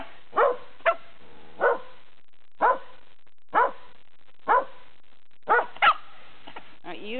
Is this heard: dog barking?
yes